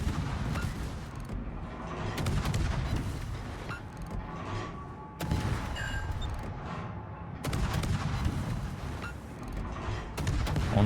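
Naval guns boom repeatedly in a World of Warships battle, heavy salvos from a Cassard destroyer's rear turret and nearby ships rolling out in bursts across a dense, continuous backdrop of battle noise.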